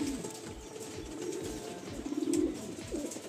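Madrasi pigeons in a Kolkata loft cooing softly, a few low, throaty rolling coos rising in bursts over faint background noise, close by and without talk.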